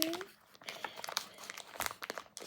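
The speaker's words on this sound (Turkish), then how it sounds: "İlk önce şu düğümü açıyorum." Plastic packaging of a cat-themed blind box crinkles and crackles in quick, close, irregular bursts as a knot is untied, fairly quiet throughout.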